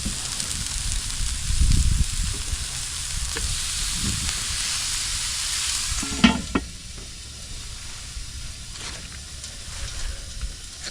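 Pork chops sizzle and fry in a pan at a campout, a steady loud hiss with occasional clanks and stirring noises, growing quieter toward the end.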